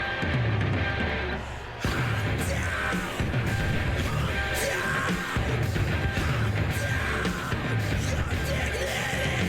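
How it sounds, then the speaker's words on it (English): A large crowd at a concert in Cyberpunk 2077 yells and cheers continuously over a pounding, music-like backdrop, with scattered whoops rising above the steady roar. "The crowd feels it."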